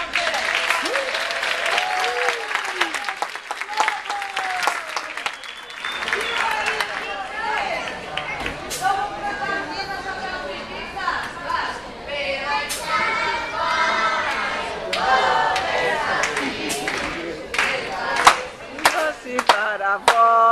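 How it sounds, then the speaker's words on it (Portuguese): Audience on a cruise ship applauds children with sustained clapping and cheering throughout, while a presenter talks over the crowd. "Então eles vão dar um fortíssimo aplauso para as crianças também."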